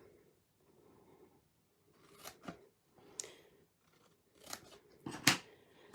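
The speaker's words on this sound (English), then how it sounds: "What you're going to do is cut this corner off, okay?" Scissors snip the corner off a paper piece being cut for a heart-shaped box, giving a few short, crisp cuts with quiet paper rustle between them in a near, faint setting.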